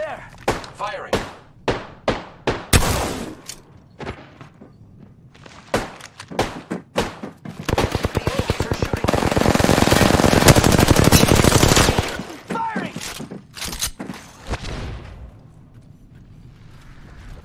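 Apex Legends gameplay gunfire: separate heavy single shots and thuds, then a sustained loud automatic burst lasting several seconds, followed by more scattered shots and mechanical clunks.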